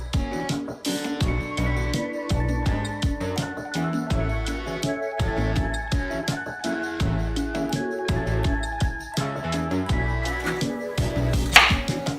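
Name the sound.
chopping an onion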